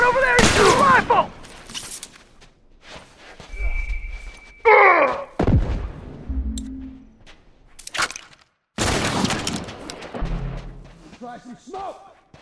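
Rifle gunfire in a shooter video game, with bursts of sharp shots and bangs scattered across the scene, some loud and close, between thuds and quieter gaps, while players shout over the action.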